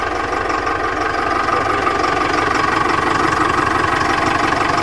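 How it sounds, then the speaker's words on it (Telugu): A Tata 1109 truck engine, just started with kicker and self-starter, idles in a steady, loud mid-to-low rumble with a fine rhythmic knock and its cooling fan pushing air, unbroken for several seconds. "ఇట్లా ఉంటుంది 1109 ఇంజను"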